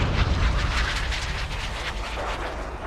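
A MiG-25 Foxbat fighter jet in flight gives a steady, loud broadband roar that holds evenly for about three seconds with no talking.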